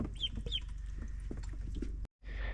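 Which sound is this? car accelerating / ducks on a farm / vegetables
ducks on a farm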